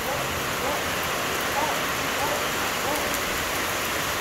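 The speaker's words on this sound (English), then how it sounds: "It's pouring rain." Steady pouring rain at an outdoor gathering hisses continuously as a dense, even wash of drops with no break.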